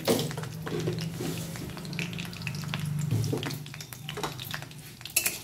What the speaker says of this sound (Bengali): অল্প একটু গোটা জিরে আর দুটো এলাচ আমি ফোড়ন দিলাম